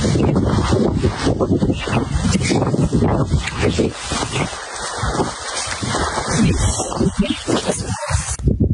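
Strong northern wind blasts across a mountaintop in November at minus six degrees, a loud, continuous gusting roar with heavy microphone buffeting throughout, no voices heard.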